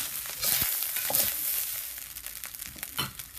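Cooked rice for chicken fried rice being stir-fried in a hot pan, a continuous sizzle with scraping stirs and occasional louder tosses, close up with no talking.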